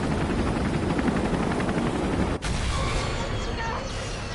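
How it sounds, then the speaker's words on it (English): A helicopter explodes in Resident Evil 3, a dense roaring blast of rumbling noise that fills the clip, broken by a sharp crack partway through and followed by crackling debris and fading roar. "The helicopter blew up and I got blown into the General Lee."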